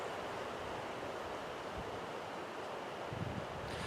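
Steady wind rushes through trees at a campsite, a continuous broad whoosh with slight gusting and some buffeting on the microphone.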